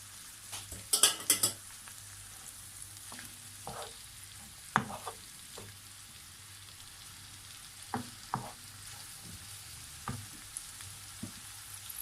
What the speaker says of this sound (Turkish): Daha sonra tavamı alıp hep birlikte kavurmaya başlayacağım.